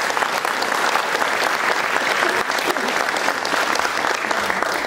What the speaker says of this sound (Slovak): Potlesk pre Anetku.